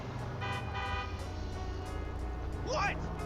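A car horn toots several times in quick short blasts in a Grand Theft Auto game, faint under an engine hum, followed by a rising and falling whine.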